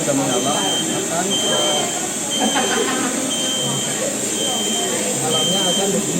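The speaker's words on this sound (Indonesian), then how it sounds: "alarmnya akan berbunyi seperti ini." A CNC machine alarm buzzer sounds steadily after switch-on as a sustained high tone, continuing alongside voices talking throughout in a workshop setting.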